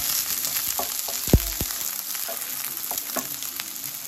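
Yellow onions fry steadily in a pan for a chicken curry, a continuous sizzle broken around the middle by a few sharp clinks of a utensil stirring against the pan.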